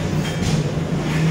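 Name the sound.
noisy engine running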